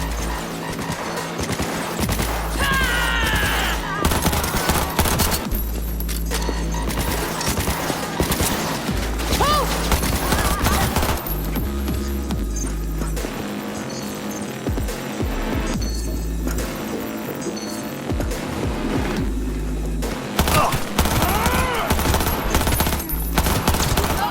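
Gunfight in Cyberpunk 2077, with bursts of automatic gunfire and single shots cracking repeatedly and loudly, mixed with mechanical clatter and game effects over a low hum.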